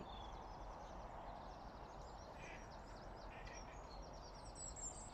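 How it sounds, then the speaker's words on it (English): Faint duck quacks come in short bursts from a distance over a steady outdoor hiss at a carp fishery at 5 a.m., with no talking. "And here comes Mr. Ducks."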